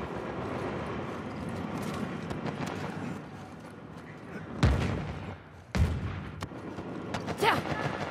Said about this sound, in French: Lance une grenade.